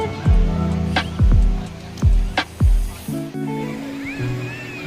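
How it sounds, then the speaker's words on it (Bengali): Sea waves break on the shore at Digha beach in West Bengal, several loud rolling crashes arriving about a second apart before settling into a softer wash with faint background voices. "বিকেলবেলা চলে এলাম সমুদ্রের ধারে।"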